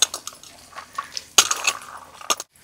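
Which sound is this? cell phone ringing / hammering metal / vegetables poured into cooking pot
vegetables poured into cooking pot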